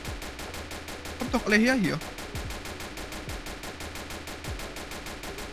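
Rapid gunfire in a crime-themed video game, a fast steady train of shots running throughout under a brief shouted German voice.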